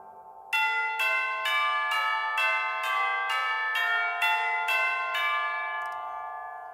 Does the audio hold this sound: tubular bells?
yes